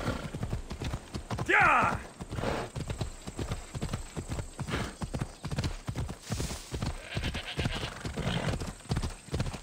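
Horse hooves clip-clop at a steady riding gait in Assassin's Creed Odyssey, close and rhythmic throughout, with a brief whinny early on and a voice talking over parts of it.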